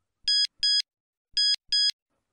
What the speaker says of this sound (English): Next morning, there was a text message from Olivia.